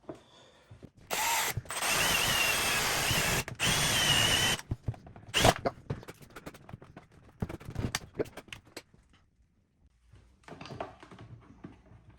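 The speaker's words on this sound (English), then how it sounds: "I'm just gonna screw it into the plastic" A power drill drives screws into the plastic case of a DIY Milwaukee M18 Bluetooth speaker to mount the amplifier volume control: two loud, close whirring bursts, then a brief spin and scattered clicks and handling noises.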